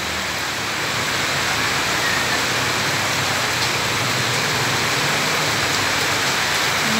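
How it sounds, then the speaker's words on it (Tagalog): Heavy rain pouring steadily outdoors in a flooding neighborhood, a dense, loud, unbroken hiss that fills the whole stretch with no talking. "lakas ng ulan."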